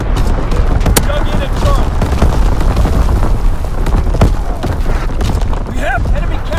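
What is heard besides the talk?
artillery strike firing on target in Call of Duty WWII video game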